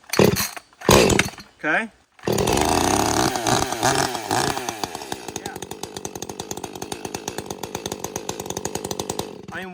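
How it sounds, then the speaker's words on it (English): A ported Echo CS-620PW chainsaw, slightly warm, is pull-started with a couple of tugs, catches and runs with a loud buzzing idle that settles into a steady rapid rhythm, with a brief spoken word near the start. "These saws started easier than my 562 does, always."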